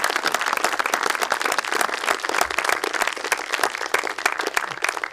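A festival audience at a composer's talk applauds composer Philippe Rombi, dense steady clapping from many hands filling the room, continuous and fairly loud throughout.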